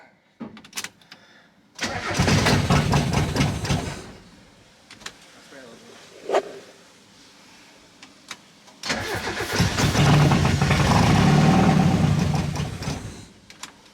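A Mazda Miata with a fuel issue cranks and catches twice, each start settling into a loud, steady idle, with quiet gaps, scattered clicks and people talking between the attempts.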